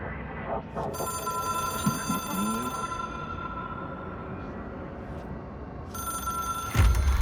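Ringing telephone in the video game Control, a repeating electronic bell tone sounding steadily over low ambient background, with a brief sharp thump near the end.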